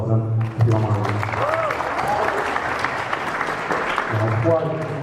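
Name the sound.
audience round of applause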